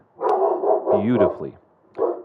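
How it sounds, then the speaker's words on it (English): A pet dog barks loudly indoors near the microphone, several sharp barks in quick succession followed by one more bark, over someone talking. "And I apologize for my dog."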